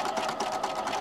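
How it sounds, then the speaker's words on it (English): A sewing machine stitches along the edge of a folded fabric strip for a baby busy book, a close, steady fast-running whir with a continuous mechanical hum and no talk. "I put it in my sewing machine and I'm gonna sew right along the edge of the"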